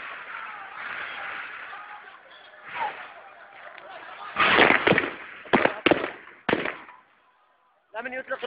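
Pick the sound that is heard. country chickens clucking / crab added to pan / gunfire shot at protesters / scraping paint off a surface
gunfire shot at protesters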